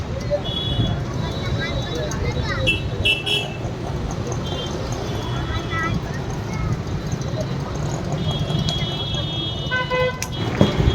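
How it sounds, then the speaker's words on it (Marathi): Vehicles stuck in a traffic jam on a newly opened bridge in Dombivli, Retibandar–Mankoli, with repeated car horn toots over a steady rumble of idling traffic, honks rising near the end, while someone talks throughout. "ब्रिजवरती गाड्यांची वर्दळ पाहू शकतो आपण"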